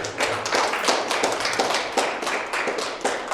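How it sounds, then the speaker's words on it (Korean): A church congregation claps during a Sunday sermon, a brief burst of close, brisk hand claps with uneven rhythm, no voices over it. "박수 한번."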